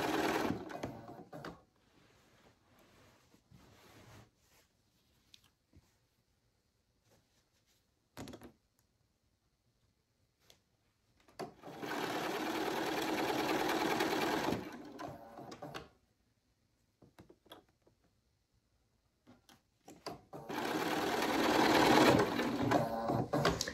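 Domestic sewing machine stitching flange binding onto a quilt, running in two long bursts of rapid mechanical whirring separated by quiet pauses with small handling knocks.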